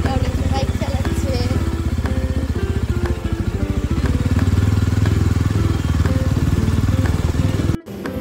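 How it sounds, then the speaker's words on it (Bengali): A motorcycle is ridden along a road, its engine a loud, steady close putter with rhythmic pulsing throughout, briefly cut off near the end. "বাইক চালাচ্ছে।"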